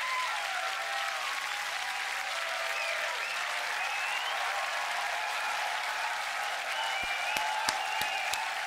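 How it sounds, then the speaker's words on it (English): Sustained audience applause at a GBB 2023 World League beatbox battle, dense steady clapping throughout with a few sharp louder claps near the end, no talk over it. "One more round of applause."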